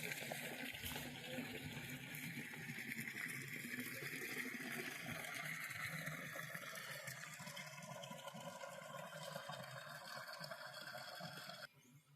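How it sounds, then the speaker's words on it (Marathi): Natural spring water flows and splashes steadily at a temple in Hivtad, Sangli, a close, continuous gushing wash that runs without pause and cuts off abruptly at the end. "हा पाण्याचा सोर्स आणि सगळं नॅचरल पाणी आहे"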